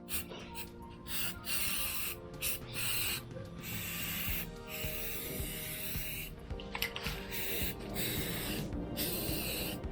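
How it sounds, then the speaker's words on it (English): Continuous hissing spray of paint onto Yamaha XVS 950 motorcycle plastic fender trim sputters in bursts with brief gaps, fairly steady and close, with a faint mechanical rattle underneath. "I will now spray a second coat of paint."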